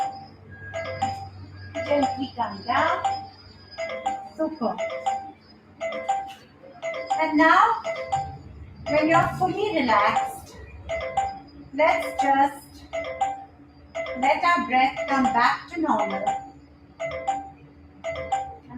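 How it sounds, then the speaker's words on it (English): A telephone rings over and over in a home yoga session, its repeated chiming tone running steadily beneath a woman's calm spoken relaxation instructions. "I'm so sorry the phone is ringing"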